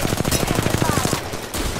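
Rapid automatic gunfire in Apex Legends, a fast steady burst of shots for over a second, loud and close, before it cuts off into game noise.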